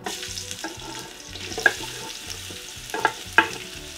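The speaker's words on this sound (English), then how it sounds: "we're just going to sweat out our onions until they are starting to go like a bit translucent" Onion strips sauté in a pan as the filling for a Kilmarnock pie, with a quiet, steady sizzle and a few sharp clinks from a utensil stirring the pan.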